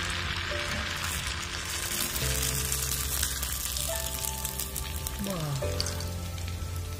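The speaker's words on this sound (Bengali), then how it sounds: "তো দেখো আমার পিঠে ভাজা হলো" Rice flour pitha fries in hot oil with a steady, crackling sizzle that runs throughout, alongside background music.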